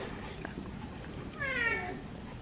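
A cat meows once, a clear rising and falling call standing out over a steady low room hum.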